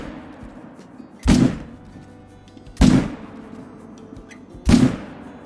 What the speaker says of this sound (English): Not the best shooting I've had on a charging buffalo